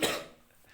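A single sharp cough bursts out close by, loud at first and then trailing off quickly into quiet.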